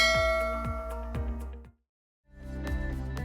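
Bright metallic ding chimes of a notification bell, struck in a quick repeating series with ringing tails, then a pause of silence before another run of dings resumes.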